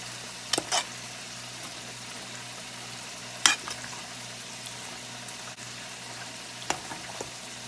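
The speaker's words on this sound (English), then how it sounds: "Okay, so now I'm just gonna mix it together." Shrimp Alfredo sauce is mixed in a pan, with a low steady simmering hiss and a few sharp clinks and scrapes of a utensil against the pan.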